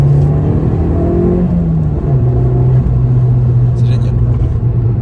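Abarth 595 Competizione with a 180 hp engine and Monza exhaust drones loud and close, its throaty tone sliding in pitch and then settling into a steady cruise.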